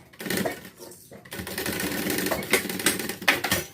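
A sewing machine runs in a steady rattling burst, close by, pausing briefly near the start before continuing; faint talk may sit underneath.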